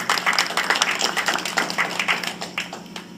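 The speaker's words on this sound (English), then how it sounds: "you certainly deserve a round of applause" Audience applause for Rotary Foundation contributions at a Rotary club gathering, with dense clapping from a crowd that holds steady for the full stretch and is heard close.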